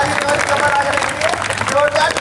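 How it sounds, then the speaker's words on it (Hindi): Strong applause from an audience at a patriotic poetry recital in Jodhpur: sustained clapping fills the space over a crowd, with some voices mixed in. "जोरदार तालियां मिलती है"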